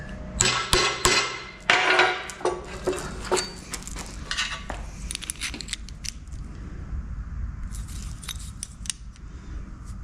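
Metal clanks and scrapes sharply as a latch bracket for a Civic EK bumper is worked in a vise, a burst of loud rhythmic strikes giving way to lighter scattered clinks and rattles.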